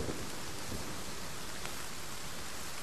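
Steady rain in the survival video game The Forest, a constant, even hiss of falling rain throughout, with no voices.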